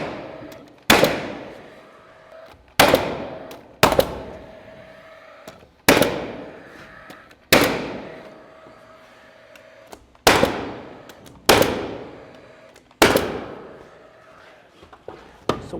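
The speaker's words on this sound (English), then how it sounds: "I'll just grab this other nail gun that's got nails in it" Pneumatic nail gun driving nails into bedroom wall framing in a post-frame barndominium build, heard as about nine sharp, loud bangs at uneven intervals, each with a short decaying ring.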